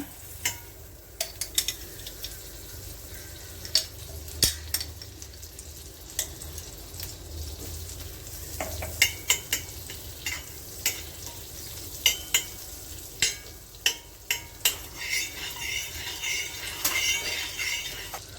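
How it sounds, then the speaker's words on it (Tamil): Butter heating and sizzling on a hot iron dosa pan, a steady low frying hiss broken by frequent sharp crackles and taps of a spatula or utensil, close and moderately loud with no talk. "இரும்பு தோசைகளில் நல்லா ஹீட் பண்ணிக்கிட்டு அது கூட நல்லா வெண்ணெய் ஆட் பண்ணிக்கிங்க"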